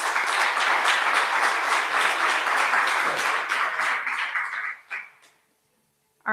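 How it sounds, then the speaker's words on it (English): Audience applause at a political forum: steady, dense clapping from a crowd that holds loud for about four seconds, then tapers off and fades to silence near the end. "Let's give him a round of applause."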